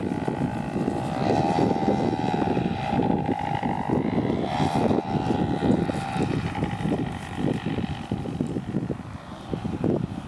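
A powered paraglider motor droning steadily in flight just after takeoff, a buzzing propeller note that wavers slightly in pitch, heard from the ground at moderate distance throughout.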